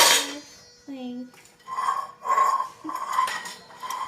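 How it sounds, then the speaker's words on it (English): Pots, pans and utensils clink and clatter in a home kitchen, a string of close metallic knocks and ringing taps in uneven bursts. "Don't mind the pots and the pans in the background."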